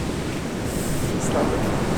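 High sea waves roll and break on a beach, a continuous hissing wash of surf with gusty wind noise over the microphone.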